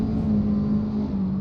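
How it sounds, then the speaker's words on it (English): GT4 race car crossing the line during German Grand Prix qualifying: a steady, loud engine drone holding at full power with no break for the whole short span. "here comes Cody Lawrence now across the line"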